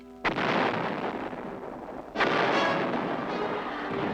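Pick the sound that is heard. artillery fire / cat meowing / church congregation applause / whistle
artillery fire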